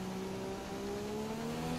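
A McLaren Formula 1 car engine in the F1 2017 racing game at the China Grand Prix hums as a steady, faint tonal drone with a slowly rising pitch, alone and without talk.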